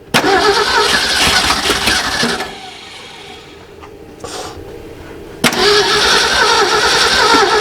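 A 1969 Ford dump truck engine cranks and catches, dips to a rough idle, then revs back up loudly. The engine is close and fills the whole clip, with no talk over it.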